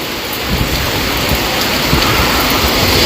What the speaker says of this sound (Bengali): মুসলধারায় বৃষ্টি হচ্ছে